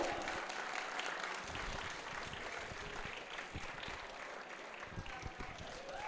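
Steady applause from an esports tournament audience for the Tekken 8 top three fills the clip, a dense wash of clapping with some crowd noise, moderately distant.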